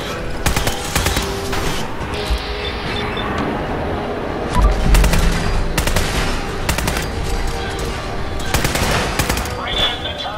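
Loud, sustained gunfire in the Fallout 4 Automatron DLC: dense rapid bursts and repeated shots packed across the whole stretch, with heavier volleys near the middle and end.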